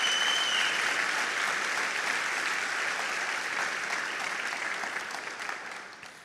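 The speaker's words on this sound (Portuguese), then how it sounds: "Se você crê nisso, aplauda ele." A church congregation applauds steadily during a Portuguese-language sermon, a dense wash of clapping that holds for several seconds and then fades out.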